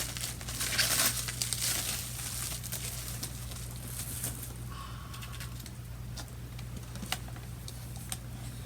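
A doll is unwrapped from its plastic wrapping, giving soft continuous crinkling and rustling of plastic with occasional sharper crackles, close and fairly quiet, with no talk.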